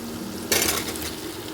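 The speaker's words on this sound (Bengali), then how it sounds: "পেঁয়াজটা একটু ভেজে নেব" A sudden hiss and sizzle as onions hit hot oil in a pan, then a steady crackling fry with light stirring.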